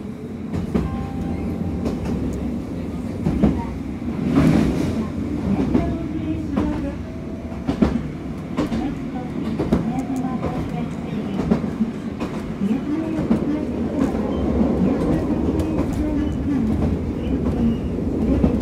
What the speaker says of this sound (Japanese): 電車が動きます。